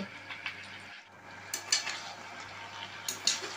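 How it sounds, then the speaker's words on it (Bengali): Sun-dried lentil dumplings (bori) fry in a pan with a quiet, steady sizzle and a low background hum. Light scraping stirs come through now and then. "আর পাশে একটু বড়ি ভাজা বসিয়েছি"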